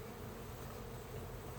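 A continuous drone of honey bees at an open hive during an inspection, steady and enveloping, with no voices.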